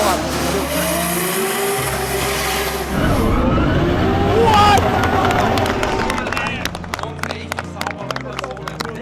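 A drift car engine revs and roars loudly near the listener at a Drift Masters event in Germany, pitch sweeping up and down through a turn, with crowd noise and commentary over it.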